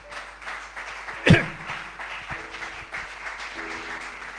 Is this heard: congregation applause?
yes